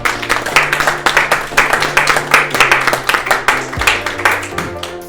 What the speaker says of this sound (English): a round of applause, I think